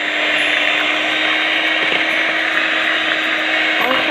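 An electric mixer beats eggs into cake batter for a cappuccino loaf cake, a steady loud whirring drone that runs continuously without pause.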